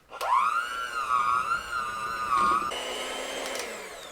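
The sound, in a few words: electric mixer mixing chocolate mousse cheesecake mixture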